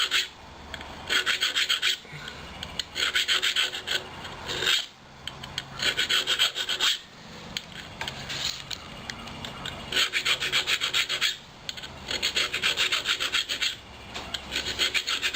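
Engine valve on a Lauson engine being lapped into its seat, a steady gritty rasping scrape in repeated back-and-forth bursts with brief pauses between, fairly close and alone without talk.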